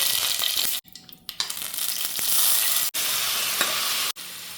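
Mustard seeds and curry leaves are tempered in hot coconut oil for Konkani-style jackfruit sukka, producing a loud, close, continuous sizzle and spatter that cuts out abruptly a few times before resuming.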